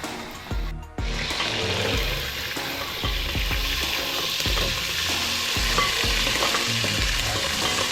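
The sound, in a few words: onion, garlic and tomato frying in a pan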